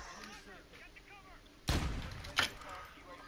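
Two sharp sniper rifle shots ring out in Call of Duty DMZ, a loud crack at the midpoint followed by a second shot under a second later, set against steady game ambience with faint voices.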